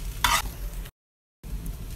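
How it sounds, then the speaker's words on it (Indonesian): A spatula stirs salmon nasi goreng fried rice in a pan with a steady low frying sizzle, one sharper scrape near the start and a brief silent gap in the middle. "Kita aduk."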